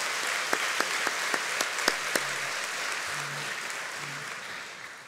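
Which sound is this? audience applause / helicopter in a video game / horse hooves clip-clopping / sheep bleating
audience applause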